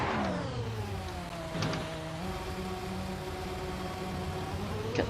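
F1 car engine in the Assetto Corsa EVO racing game at Mount Panorama, a high-pitched revving note climbing and changing through gears, steady and fairly quiet with no talk.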